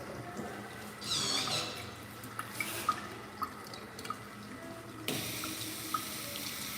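Water from an infrared sensor tap in a modern arena restroom runs steadily into a sink with splashing and a few distinct drips. It cuts off partway through, then resumes with a louder flow near the end.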